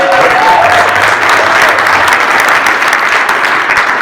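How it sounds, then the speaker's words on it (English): An audience at a leadership event workshop in Las Vegas applauds, dense steady clapping filling the room, loud and continuous throughout with no talk over it. "Give them a big round of applause."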